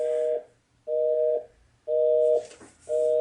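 Telephone busy signal played through a Bluetooth indoor/outdoor speaker after redialing a number, steady repeating tone bursts with short gaps between them, clear and loud, with no voices.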